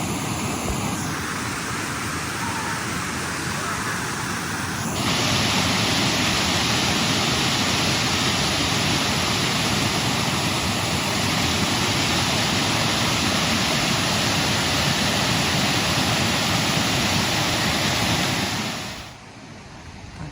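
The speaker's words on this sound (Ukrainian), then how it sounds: "Оце ж ця річка тут тече." A river rushes near Buckingham Waterfall in a forest as a dense, steady roar, loud and continuous, with no voices.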